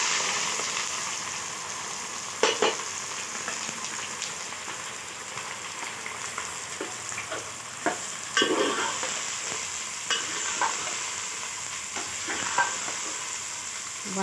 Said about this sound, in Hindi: साबुत मिर्ची डालेंगे फिर साथ में प्याज भी डाल देंगे।